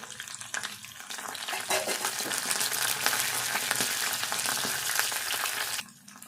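Onions and green chillies fry in hot oil with steady loud sizzling, continuous with faint stirring clatter, stopping abruptly near the end.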